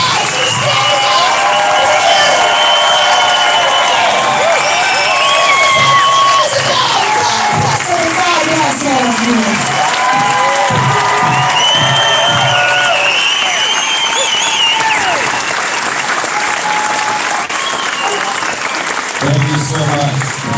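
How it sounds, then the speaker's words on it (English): A crowd at an outdoor People's Convoy meet-and-greet applauds and cheers for a long stretch, with steady clapping, whoops and shouts, some from children, running loud and dense throughout. "Give the Thomas a round of applause for standing up!"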